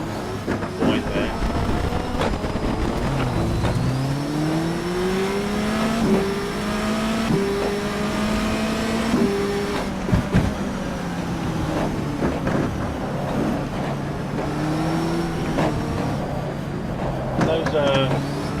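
A race car in the rFactor 2 sim racing game revs and shifts through its gearbox, with rising and falling engine pitch, loud whining gear noise and occasional tire squeal, under continuous talk from a driver.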